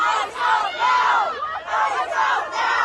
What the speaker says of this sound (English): The scene turning chaotic as agents made arrests and pushed back the crowd.